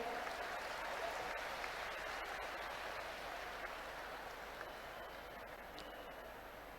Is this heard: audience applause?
yes